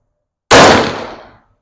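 A single sharp gunshot from AAC 5.7x28 FMJ range ammunition, loud and close, cracking out of silence and ringing down over most of a second with no voices.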